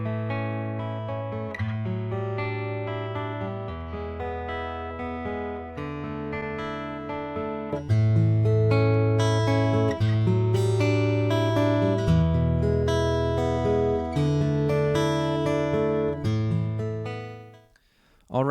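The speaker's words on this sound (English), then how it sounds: "Here is the sound of the standalone soundboard transducer, followed by the sound of the mic and the magnetic blended together." Acoustic guitar fitted with a Skysonic PRO-1 soundboard transducer, playing a sustained picked and strummed passage, loud and steady, first from the transducer alone and then with mic and magnetic pickup blended, ending in a brief fade.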